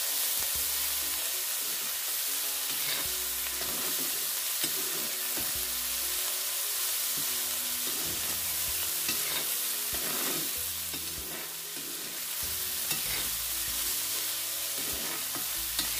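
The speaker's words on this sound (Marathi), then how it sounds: "पण आधी पहिल्यांदा तेलामध्ये व्यवस्थित परतून घ्यायची" Kantoli, a Konkan wild vegetable, sautéed in oil in a pan: a steady close sizzle and frying crackle under repeated stirring and scraping strokes throughout, with no talking.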